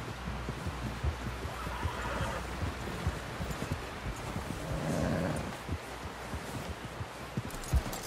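Horse hooves clip-clop in Red Dead Redemption 2, a steady, soft rhythm of footfalls running through the whole stretch alongside low rumbling ambience, with a slightly louder swell partway through.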